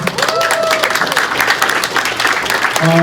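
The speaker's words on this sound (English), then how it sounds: "So a big round of applause for everybody there." A crowd claps and cheers in a dense, steady burst of applause that fills the whole moment, with some voices and music faintly mixed in underneath.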